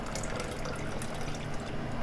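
Half and half is poured into a pan for a one-pan potluck dessert, a steady soft liquid rush with faint kitchen hiss running evenly throughout, no talking.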